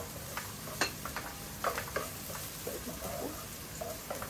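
About two tablespoons of ginger hit a hot pan for pork spare ribs with black beans, making a soft continuous sizzle broken by a few stirring clatters and spatula taps, close by and without speech.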